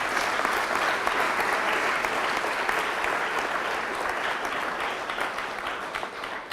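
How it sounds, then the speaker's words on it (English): A debate final's audience applauds, with loud, dense clapping that runs steadily with no talk and eases slightly toward the end. "you have to give a round of applause at this point"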